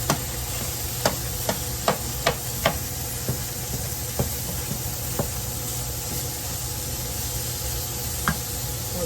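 Ground meat and onions sizzle in a pan with a steady hiss, broken by a handful of light knocks from a utensil breaking the meat apart, and no voices.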